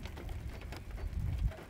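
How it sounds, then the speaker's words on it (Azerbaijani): A heavy rain downpour approaching in the mountains of Lachin during a storm, a steady broad hiss of falling rain that grows slightly louder toward the end. "Yağış yox, daha doğrusu ona leysan deyək."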